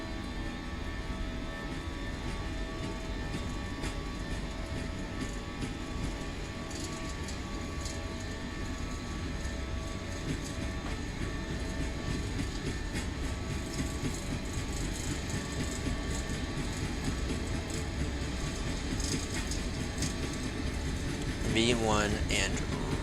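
Airliner engines roaring steadily through the takeoff roll, a constant broadband rumble with a high whine and faint rattling, while a pilot talks over it.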